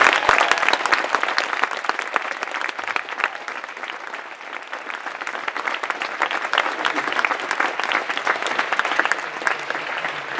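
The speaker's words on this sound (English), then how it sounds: "Please give Summer a huge round of applause." A large audience gives sustained applause, a dense, steady wash of many hands clapping for the full length without a break.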